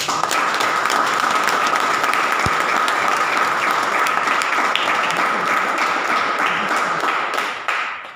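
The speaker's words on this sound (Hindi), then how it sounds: "जी, ताली मार दीजिए।" Sustained applause from a crowd, steady dense clapping that holds for several seconds before thinning out at the end.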